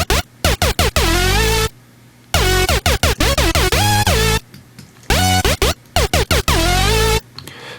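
A heavy Serum synth lead/bass preset plays loud distorted, growling stabs and pitch-swooping phrases in choppy rhythmic bursts, separated by short gaps of silence.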